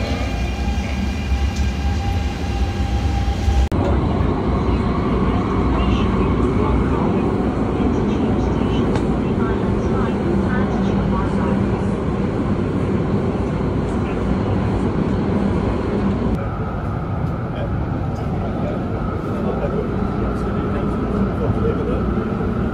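Steady rumbling roar inside a moving passenger train, broadband and continuous throughout, with a shift in tone partway through and no clear speech.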